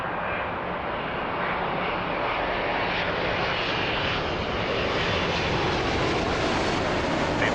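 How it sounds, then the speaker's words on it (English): KLM Boeing 777 engines at Toronto Pearson, a loud continuous jet roar close by with a broad rushing hiss that slowly climbs in pitch and swells a little over the span. "Oh, actually, that's a 777 KLM."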